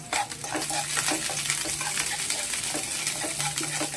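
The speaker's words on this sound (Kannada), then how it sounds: "ಈರುಳ್ಳಿ ಹಾಕ್ಕೊಳ್ಳೋಣ ಮತ್ತು ಹಸಿಮೆಣಸಿನ್ಕಾಯಿ ಹಾಕ್ಕೊಳ್ಳೋಣ. ಎಲ್ಲವನ್ನು ಚೆನ್ನಾಗಿ ಫ್ರೈ ಮಾಡ್ಕೊಳ್ಳೋಣ." Onions and green chilies fry in hot oil, a steady close sizzle with scraping stirs and a few clinks of a spoon against the pan, with no talk over it.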